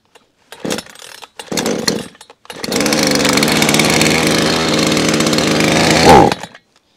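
A cheap Hyundai petrol chainsaw sputters through two short pull-start bursts, then catches and runs at a loud steady idle, revving briefly before cutting off.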